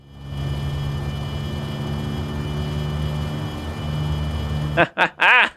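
Steady droning hum of a Piper PA-28-161 Warrior II piston engine in Microsoft Flight Simulator during slow flight, loud and continuous, rising slightly in power, followed by someone talking.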